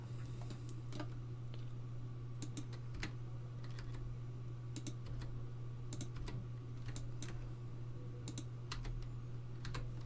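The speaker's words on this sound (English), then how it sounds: "I was hitting the wrong key. I was hitting G like a big, silly dummy." A computer keyboard is tapped while a user works on a 3D model's UVs, irregular crisp key clicks coming in small bursts and single presses over a low steady hum.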